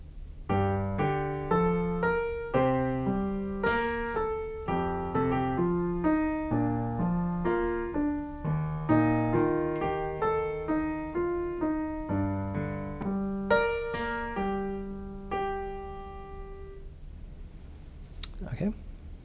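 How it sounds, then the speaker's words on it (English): Slow piano rendition of a Tamil film song from Aadhavan, both hands together, steady sustained chords and melody notes in a clear close recording, ending with a brief soft noise. "So putting the left and right hand together very slowly, it will sound like this."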